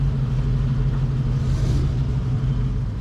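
Classic cars run in convoy behind a white Ford Granada estate, a steady low engine rumble and road drone holding close and even throughout with no voices.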